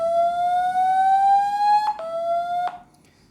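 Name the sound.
high-frequency speaker cleaning tone from Mi phone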